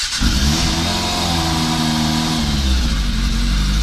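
A Yamaha FZ600 Fazer motorcycle engine catches after winter storage and settles into a loud, steady idle, a dense low rumble that holds evenly throughout.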